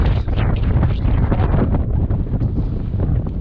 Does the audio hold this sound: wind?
yes